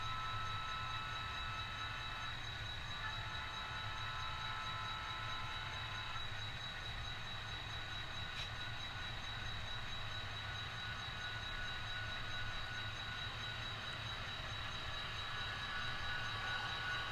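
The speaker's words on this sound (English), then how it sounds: "The dispatcher has put train SC32, a manifest freight, onto the siding to allow train number 2 to pass." A passenger train rolls past a manifest freight train waiting on a siding, giving a steady, distant rumble of rail traffic with a faint high whine. The level stays low and unchanging throughout.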